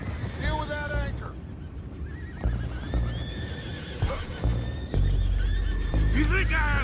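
Horses whinny and neigh in a video game scene, the calls loud and close, with hoof clatter and rumbling effects beneath and voices talking over them.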